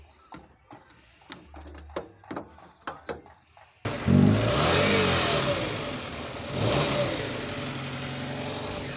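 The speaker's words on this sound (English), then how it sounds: "can you start that for me, please? Give it a bit of rev." After some clicks and taps, a car engine with a suspected white smoke or head gasket problem turns over and catches, then runs at a loud rough idle with a rising rev partway through, close by.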